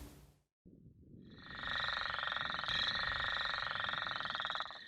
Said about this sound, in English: The northern leopard frogs are known to be either green or brown with irregular oval-shaped dots